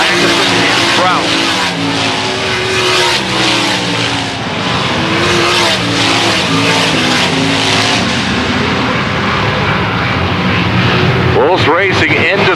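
Race cars roar continuously around an oval track at the Kevin Gobrecht Classic, engines droning loud and close with shifting pitch as the pack battles for position, a brief skid near the end, with a commentator talking over it.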